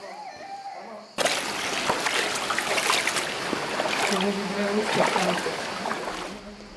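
People wade and splash through an icy cold, spring-fed stream at the entrance to Saklikent canyon in Turkey; sloshing water and splatters start abruptly and continue steadily and close by, with voices underneath.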